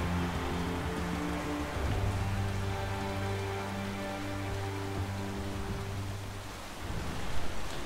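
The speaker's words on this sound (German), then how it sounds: "Das sieht schon nach stärkerem Regen aus." Steady hiss of heavy rain over a low, droning engine hum in the racing video game F1 2012, China qualifying, continuous throughout with no voices.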